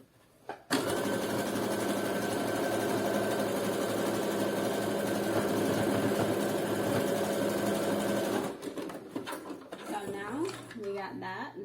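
A sewing machine stitches fabric for a thong with rings, a loud close steady whirring hum that runs for about eight seconds and then stops, followed by brief handling sounds and faint talk.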